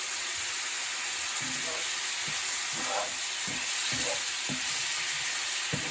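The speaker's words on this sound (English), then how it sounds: "I'm just going to cook this for a few more minutes with the honey sriracha sauce" Tofu with honey sriracha sauce sizzles in a pan, a steady loud hiss with faint bubbling and soft scraping knocks of stirring, close up and without talk.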